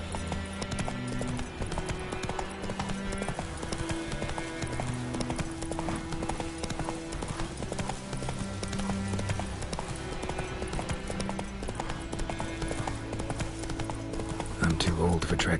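Roach, the horse in The Witcher 3 video game, gallops at a steady rapid clip-clop beneath game music, the hoofbeats continuous and close, with a brief louder burst near the end.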